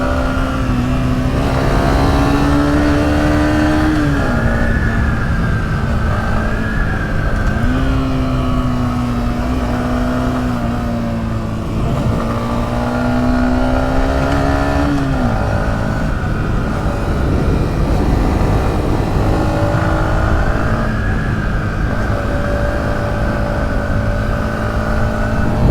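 A Yamaha XSR155 motorcycle engine drones loudly and steadily during a ride on an open road, its pitch rising and falling with throttle changes through corners, with wind rush throughout.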